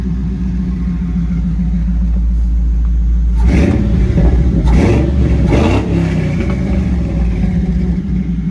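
Ford 4.6 V8 in an F100 truck with long tube headers and Flowmaster 40 mufflers rumbles steadily at idle, then barks through several sharp revs before settling back to a deep, loud idle.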